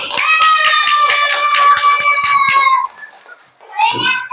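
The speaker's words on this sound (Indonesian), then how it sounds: "Tepuk tangan untuk kita semua." Children in a classroom clap together in quick, steady rhythm while their high voices ring out loudly over the claps, then a brief lull before the voices rise again.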